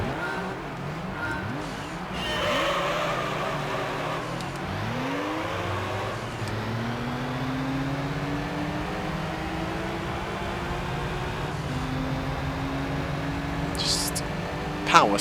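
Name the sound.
car engines racing in video game Gran Turismo 3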